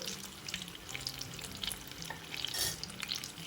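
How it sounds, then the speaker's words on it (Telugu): Mirchi bajji chili fritters fry in oil over a medium flame while being turned, giving a steady close crackling sizzle with scattered pops and light stirring scrapes throughout. "ఫ్లేమ్ని మీడియం ఫ్లేమ్లో అడ్జస్ట్ చేసుకుని క్రిస్పీగా అయ్యే వరకు కూడా వీటిని ఇలా కొద్దిగా తిప్పుకుంటూ వేయించుకోండి"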